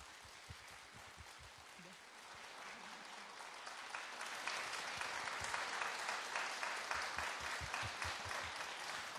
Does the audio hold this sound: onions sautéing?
no